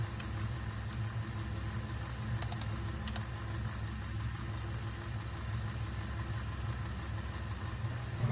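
A Jeep ZJ 5.2 V8 engine idles after maintenance, rumbling continuously at an even, low pitch, close by, with a couple of faint clicks partway through.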